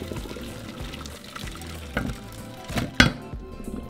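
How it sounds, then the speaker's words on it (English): Water drained from a pot of cooked chiles in a kitchen, a steady pour with a few sharper splashes and clunks near the end, close and moderately loud. "we're going to drain the water and let them cool down"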